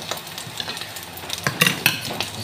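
Fried rice frying on a griddle, a close sizzle with quick scraping and tapping of a spatula against the metal surface, no talking.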